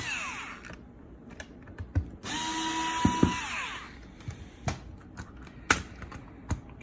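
Power drill loosening four screws on a car diagnostic scanner, a short whining burst of the motor amid quiet clicks and taps of handling, with no talk.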